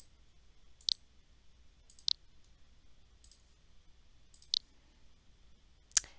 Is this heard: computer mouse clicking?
yes